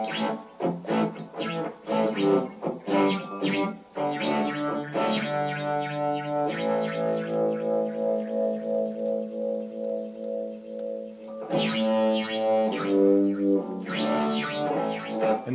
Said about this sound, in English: this is the one with the photosensitive cells on it, the photosensors, so that it actually kind of gives it that metallic spinning sound